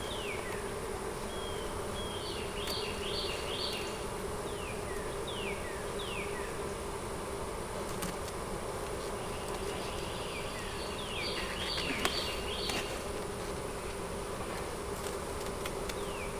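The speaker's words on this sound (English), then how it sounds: "Swarmy freaking bees." Honey bees buzzing steadily around a crowded hive on the verge of swarming, a dense continuous hum with individual bees whizzing past close by and no talking.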